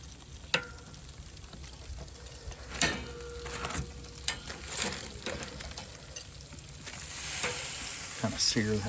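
A NY strip steak sears on a Weber 26-inch kettle grill, a soft steady sizzle punctuated by several clanks and scrapes of tongs and metal, with a brief muffled voice near the end.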